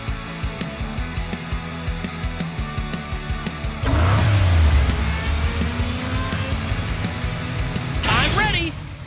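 Race cars rev and speed in the Hot Wheels Unlimited video game. A pulsing engine drone jumps to a louder roaring rush midway, with skidding whooshes near the end and a voice talking over it.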